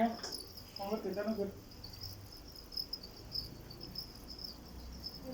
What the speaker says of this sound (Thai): จิ้งหรีดนะคะวัย38วันค่ะ โตเต็มที่แล้วนะคะ เขาก็จะอยู่แบบหนาแน่นเลยค่ะ